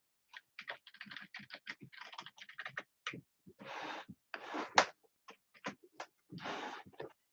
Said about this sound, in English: I'm just going to type your name down.